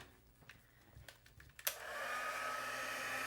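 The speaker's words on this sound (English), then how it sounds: "grab my heat tool" A handheld heat tool switches on partway through and blows a steady, loud rush of hot air onto embossing powder for a craft stamping project. A few faint clicks and handling sounds come before it.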